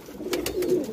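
Pigeons coo in a Moradabad loft where breeding pairs and their young are kept, soft low throaty calls running through a single short moment, close by and alone with no talk.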